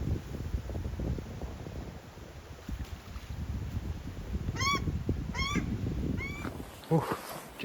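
Ducks by a lake on the Milford Track in New Zealand give a few short, honking calls in the latter half, rising over steady wind noise and outdoor rumble.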